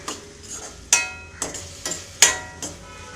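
Prawn fry stirred in a pan over a high flame: about six sharp spatula clanks and scrapes at an uneven pace, each followed by a short ringing tail over a faint sizzle.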